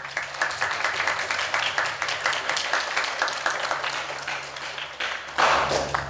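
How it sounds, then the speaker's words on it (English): Steady applause from a crowd at a fifth grade school ceremony, many hands clapping continuously in a hall, swelling louder just before the end. "How about a round of applause for these wonderful students"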